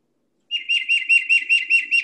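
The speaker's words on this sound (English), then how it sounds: "Speaking of tufted titmouse, here it is." A tufted titmouse sings a rapid series of clear, bright whistled notes repeated rhythmically about seven times, close and loud after a brief silence.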